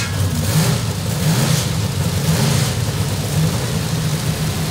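A 427 Chevrolet stroker V8 runs on an engine dyno after its break-in period, a loud, steady, deep engine roar holding throughout with no speech.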